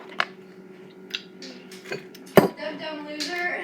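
Salad is tossed in a bowl with utensils, producing scattered clinks and scrapes, one sharp knock among them, with someone talking over the clatter.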